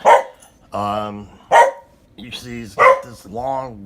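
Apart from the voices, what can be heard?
dog barking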